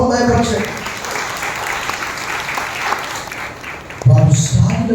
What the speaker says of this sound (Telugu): బిగ్గరగా చప్పట్లు కొట్టి ప్రభువుని మహిమపరచండి.